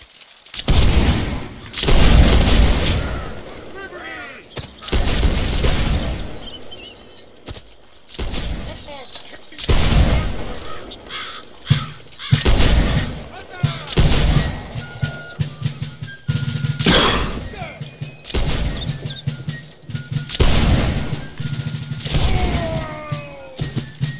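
Musket volleys and booming artillery shots crash repeatedly in a Whigs and Tories video game battle over rooftops and fields, loud and close, with bursts and scattered single shots under intermittent talking.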